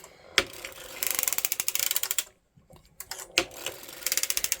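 A hand-cranked circular sock machine knits rows of a 48-stitch sock, giving a rapid, evenly spaced ratcheting clatter in two bursts separated by a brief quiet pause and a few clunks.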